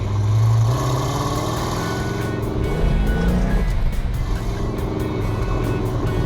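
A 1969 Dodge Super Bee with a 440 Six Pack engine and 4-speed, running hard with a loud, deep roar that shifts pitch as it revs and accelerates, close and continuous, with no talking.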